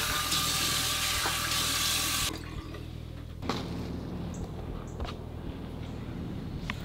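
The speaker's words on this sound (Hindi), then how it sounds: "ज़रा मुंह भी धो लेता हूँ" A tap gushes loudly and steadily for about two seconds, then is shut off as someone washes their face outdoors, leaving quieter dripping and handling noises.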